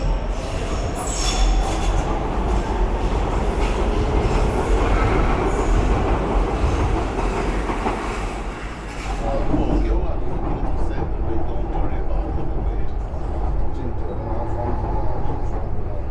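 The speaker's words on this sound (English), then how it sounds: "These fully automatic trains leave for Bank Station every 10 minutes." A fully automatic train bound for Bank Station in London rumbles and clatters along the rails with squealing wheels, loud and continuous, with a voice speaking over the running noise.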